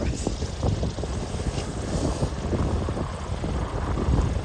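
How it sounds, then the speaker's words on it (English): Bush plane in flight along the Alaskan coast, a steady loud engine and propeller drone heard from inside the cabin, continuous throughout. "We're taking the bush plane and we're heading to the coast"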